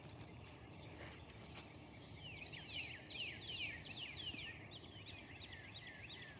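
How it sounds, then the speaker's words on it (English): Small songbirds chirp in quick repeated phrases in a warm, humid Georgia backyard, fairly faint and a little distant over a steady outdoor hum, with no talking. "Listen to the birds."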